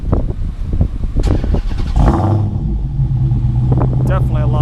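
A 2017 Dodge Hellcat's engine, louder and deeper than stock, rumbles loudly up close, with a throaty blip early on and then a steady deep idle, while someone talks over it.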